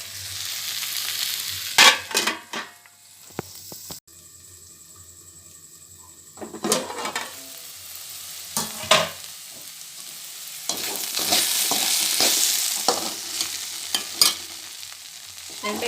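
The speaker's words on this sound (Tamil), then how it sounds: "கால் கிலோ வெண்டைக்காய் இருக்கும், அதை பொடிசாக கட் பண்ணி சேர்த்து அதை வதக்கி விட்டுருக்கேன்" Finely chopped okra sautéing in a pan for a gravy, with intermittent stirring scrapes and clatters over a soft sizzle, louder bursts of frying and spoon knocks recurring up close throughout.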